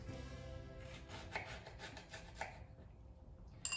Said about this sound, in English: I'm going to slice the orange in quarters